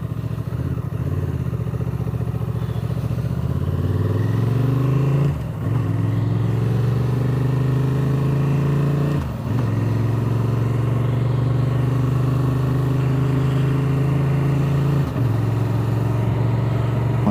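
Honda Transalp 750 motorcycle engine starting on a cool morning, then idling and revving close by in a steady loud drone with brief dips as the throttle changes.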